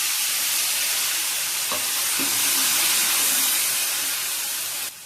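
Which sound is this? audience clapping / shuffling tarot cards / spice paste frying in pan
spice paste frying in pan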